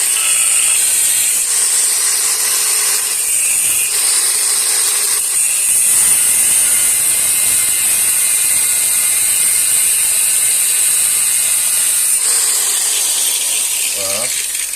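Tabs on a motorcycle radiator bracket being cut off on a Derbi Euro 4 during a double-radiator install, a steady grinding, rasping cut running almost continuously at close range, with brief pauses and a short change in tone near the end.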